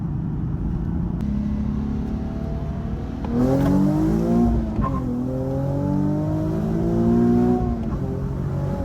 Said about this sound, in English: I got her chirping all the way up to third gear